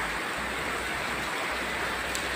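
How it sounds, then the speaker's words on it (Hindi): Heavy rain driven by strengthening wind, a dense, steady roaring hiss that fills the whole stretch without pause and with no voices. "बारिश और तेज़ बढ़ गई है और हवा भी अब और तेज़ हो गई है।"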